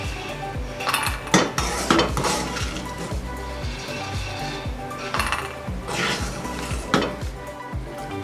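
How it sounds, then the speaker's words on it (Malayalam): Peanuts dry-roast in washed sand in a pan, stirred with a metal spoon: gritty scraping and rattling with repeated clinks and knocks against the pan, close and continuous, with no talk. "ഉപ്പിന് പകരം നമ്മൾ നല്ല മണൽ പിന്നെ കഴുകി വൃത്തിയാക്കി എടുത്തിട്ട് ഇങ്ങനെ വറുത്തെടുക്കാം"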